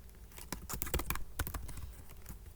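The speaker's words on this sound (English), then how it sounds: "It's hard to type with my long nails." Someone with long nails types on a computer keyboard, producing quiet, close, irregular clicky taps in quick bursts with short pauses.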